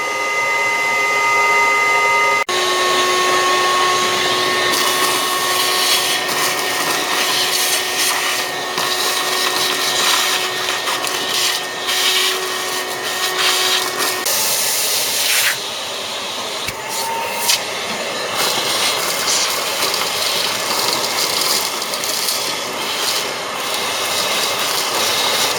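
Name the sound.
vacuum cleaner running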